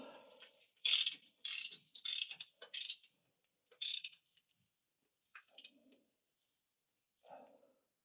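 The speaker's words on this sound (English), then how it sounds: "Just doing the other pin nut now." A ratchet clicks in short bursts while a leaf spring pin nut is tightened on a Toyota HZJ75 Troopy, with quick close ratcheting strokes, then pauses and a few fainter clicks.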